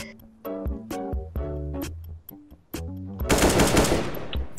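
Gunfire in the video game CS:GO: rapid loud bursts of shots come first, then a dense, sustained volley with no voices.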